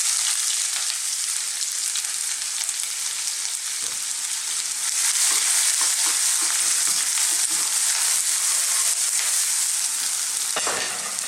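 Onions sizzle and fry in hot oil with spices over fairly high heat for an Indian vegan tofu curry, making a loud, steady crackle with occasional stirring clatter.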